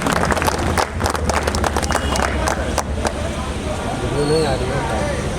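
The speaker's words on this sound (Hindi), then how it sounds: "तो एक बार इनके स्वागत में भी ताली बजाया जाए जोरदार।" Crowd clapping in welcome for a guest at an outdoor protest rally: a burst of loud, ragged claps in the first half that thins out, mixed with crowd murmur and a nearby speaking voice.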